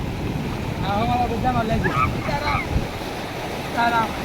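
Sea waves wash and surge onto the shore in a steady rush of water, with wind noise and people talking over it.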